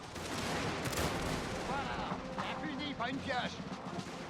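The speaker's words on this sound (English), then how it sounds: "And now they're starting to fire." Enemy troops firing in a battle video game, a dense wash of distant gunfire and rumbling shots that runs throughout, with a voice and other game sounds layered over it.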